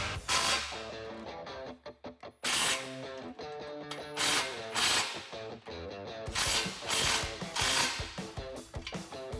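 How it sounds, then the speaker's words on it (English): Ratchet wrench with a 17mm shallow socket tightening an exhaust clamp on an aFe Atlas 4-inch exhaust for a 2015-2020 Ford F-150 3.5L EcoBoost, heard as close, loud bursts of rapid clicking separated by brief pauses. "Taking our 17mm shallow socket and tightening that down."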